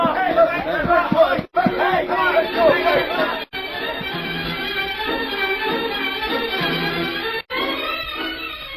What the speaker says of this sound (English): the bank now was the focal point of attention as a crowd gathered into the small building